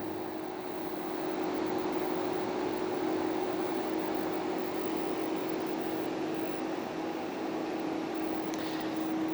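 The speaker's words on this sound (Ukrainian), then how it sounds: "Сам флайт-пак охолоджується вентиляторами." The cooling fans of an AXIOMA energy AXEN.IA-2600VA inverter run with a constant whooshing hum and a steady tonal whine, unchanging and fairly close, with no talking.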